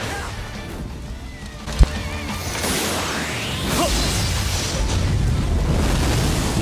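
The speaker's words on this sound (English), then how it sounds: "let's see the Soul Bomb" Soul Bomb special attack in the Bleach Brave Souls mobile game: a sharp hit, then rising whooshes swelling into a loud, sustained roaring blast of energy effects.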